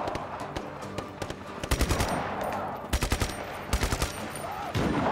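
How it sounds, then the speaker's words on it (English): Gunfire from the video game Just Cause 3 comes in short, loud bursts of a few rapid shots each, repeated several times with brief pauses between them, and no talking over it. "Oh, this is only burst fire."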